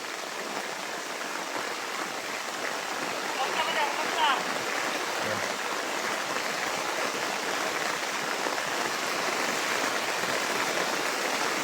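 Heavy rain pours steadily on a camp of huts, a dense, even hiss of falling water that fills the whole stretch with no let-up.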